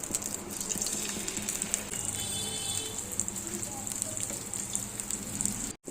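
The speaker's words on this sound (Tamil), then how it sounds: "சர்றன்னு சத்தம் கேட்குது." Hot oil sizzles steadily in a pan, ready for frying plantain, a continuous hissing crackle throughout that cuts off abruptly at the end.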